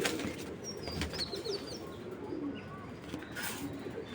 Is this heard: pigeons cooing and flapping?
yes